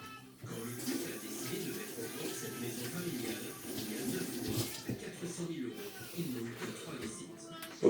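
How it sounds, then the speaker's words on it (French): Running tap water for handwashing during cooking, a steady close hiss and splash that goes on throughout, mixed with background voice and kitchen noise. "Allez, je vais me laver les mains"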